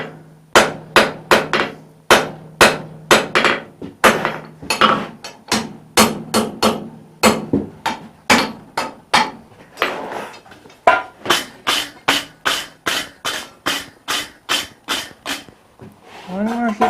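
A blacksmith hammers hot flat bar into a forge-welded collar on an anvil, a long run of sharp, ringing metal strikes in quick rhythmic bursts with brief pauses, loud and close.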